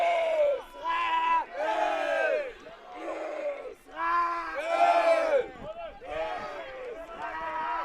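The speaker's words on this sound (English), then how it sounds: "Israeli fans cheering on the sideline just in front of us." Israeli fans on the sideline of a U20 mixed ultimate frisbee match against the Netherlands cheer and shout close by, their loud, high voices rising in repeated waves of whoops and yells.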